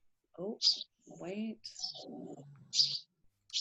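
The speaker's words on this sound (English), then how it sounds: "You can hear her little bird in the background." A small pet bird chirps in the background of a home video call, several short bright chirps spaced through the clip, interleaved with a woman's nearby speech.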